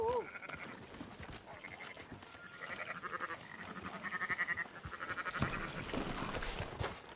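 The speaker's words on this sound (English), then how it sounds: "Fine sheep." Sheep bleating on a farm in Red Dead Redemption 2, several short bleats at moderate distance over ambient game sounds, with someone talking over them.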